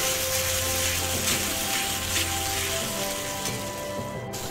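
Katla fish curry masala fries in a pan over a medium gas flame, giving a continuous dense sizzle that stays steady and fairly loud with no talk.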